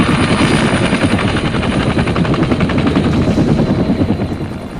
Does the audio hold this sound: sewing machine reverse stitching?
no